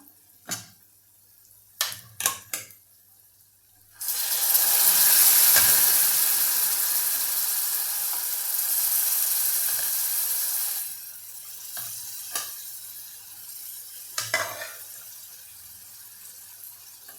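Stirring green chickpea masala, a Nagpuri-style rassa with onions, in a hot pan: a loud sustained sizzle in the middle stretch, with a few sharp utensil taps before and after.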